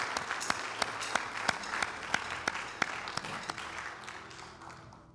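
A church congregation claps steadily during worship, with sharp individual claps standing out in a regular rhythm over the wash of applause.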